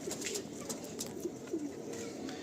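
Pigeons in a loft, soft low cooing repeated several times over a faint steady background hum, close but quiet, with no talk.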